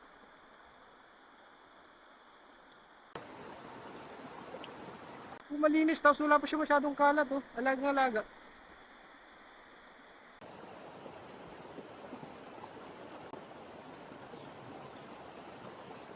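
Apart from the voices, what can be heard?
river stream flowing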